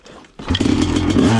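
A Honda CR500 dirt bike is cold-started with the choke on and fires up at once into a loud, close, rough two-stroke idle, after a brief quieter moment of kicking.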